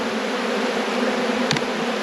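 Honey bees hum in a dense, steady drone at an open hive during a late-season frame inspection, loud and close, with one brief sharp tap partway through.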